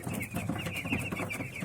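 A broiler chick gives faint, quick peeping calls over a soft, rough background rustle, sounding close but quiet, with no voices.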